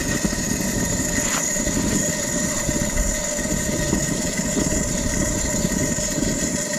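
A Coleman camping stove burner burning while it heats up, still with a yellow flame, giving a steady, loud roaring hiss that holds level throughout with no breaks and no talk.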